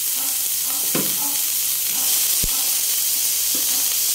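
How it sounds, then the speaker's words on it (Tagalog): Fried galunggong fish slides into a simmering tomato-and-egg sarciado sauce, giving a steady close sizzle and hiss with a few soft stirring scrapes and one sharp clink. "idadagdag lang natin yung pritong isda"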